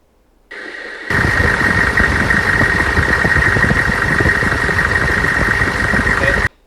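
A Humvee engine idling smoothly, close and loud, starting with a low hum before settling into a steady, even drone with a constant whine that holds until it abruptly cuts off.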